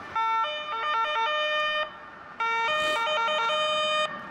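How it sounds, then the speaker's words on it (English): An Austrian emergency vehicle's siren wails in a repeating two-tone pattern, loud and alone, with a short drop in level midway before the cycle resumes. "That siren gets me every time."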